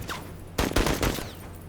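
Weapons firing in the tactical game Menace produce a quick cluster of loud shots, about three sharp reports packed into under a second, standing out against a low background rumble.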